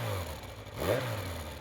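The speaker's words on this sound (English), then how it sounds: "I rev the engine a few times because I can" A motorcycle engine in a video game revs up and falls back once, a steady mid-pitched rumble with one rising surge near the middle; no voices.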